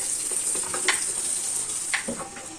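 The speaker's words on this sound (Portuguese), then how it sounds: "Tati Amanda tá na produção de pastel." Pastel pastries fry in hot oil at a countryside festa na roça. The sizzle is steady and close, with a few brief scrapes and clinks of stirring, and no one talks.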